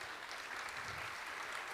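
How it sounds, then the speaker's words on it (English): Faint, distant applause from a crowd at a Chamber of Commerce membership meeting in the Pleasant Valley Fire Hall, a soft even patter of clapping with no distinct individual hands. "Give them a round of applause"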